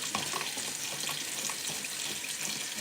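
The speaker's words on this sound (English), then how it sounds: "And then you just fill her up with hot water." Hot water gushes steadily from a tap into a container, a continuous splashing rush up close with no voices.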